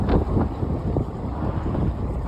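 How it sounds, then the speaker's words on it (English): Strong wind buffets the microphone near a harbor where boats pass under a lifting bridge in Barbados, producing a continuous loud, rumbling roar with irregular gusty thumps. "because it's so windy"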